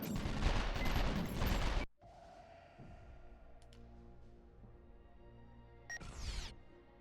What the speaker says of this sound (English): Endless gunfire.